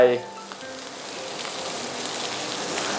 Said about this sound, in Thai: ตอนนี้นะครับน้ำซุปเริ่มงวดนะครับ ผมจะใส่เจ้าตัวน้ำมันงาลงไป